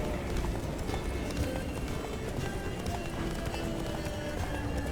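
A horse gallops in the video game The Witcher 3, with fast rhythmic hoofbeats drumming steadily over a busy background of game ambience.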